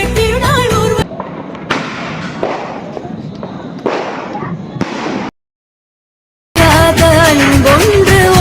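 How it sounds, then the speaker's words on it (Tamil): Deepavali firecrackers pop and burst in a loud irregular series between stretches of music with singing, followed by a brief total silence before the music returns. "பட்டாசு வெடி சத்தம்"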